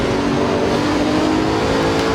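Bugatti Chiron in Assetto Corsa VR straining under hard acceleration, a loud, steady engine drone with layered harmonic whine holding throughout, close and continuous with no talk.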